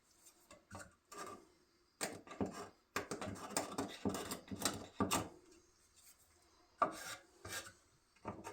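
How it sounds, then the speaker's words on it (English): Old glue being scraped off a wooden jig used for building hay bunks: bursts of close, raspy scraping strokes in an irregular rhythm, with short pauses between passes. "Got to scrape off some old glue here."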